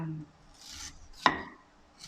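A knife slices ginger on a cutting board: a couple of soft scraping strokes, then one sharp, close chop, with quiet room noise between.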